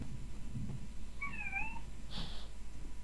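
A frightened cat meows once during a thunderstorm, a short plaintive two-toned call rising then falling, followed by a brief higher squeak, heard over a steady low background rumble with no talking.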